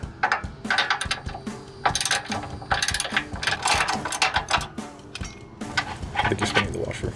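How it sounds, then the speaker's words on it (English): A hand ratchet loosens 16mm bolts on a Jeep Gladiator JT rear bumper, rapid clicking bursts repeating close up, with a person talking at times. "The next step will be removing the 16mm bolts."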